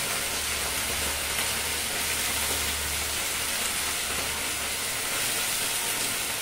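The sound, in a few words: red amaranth greens frying in a pan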